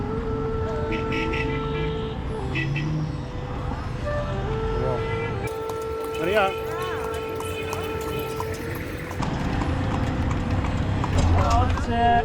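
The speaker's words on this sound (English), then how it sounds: "We got a horse and carriage ride to Edfu Temple" Horse-drawn carriage hooves clip-clop on a road through heavy traffic in Edfu, Egypt, with steady rhythmic steps amid engine noise and horn-like tones while people talk.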